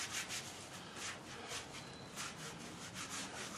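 Hands rubbed together with Big Wipes to clean off anti-seize compound, a steady close, soft scrubbing and swishing in quick rhythmic strokes, with no talking.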